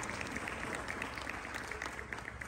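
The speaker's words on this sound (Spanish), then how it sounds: "Un fuerte aplauso para ella" An audience at an academic forum on porro music applauds, a continuous, fairly soft patter of many hands clapping heard at a distance, steady throughout.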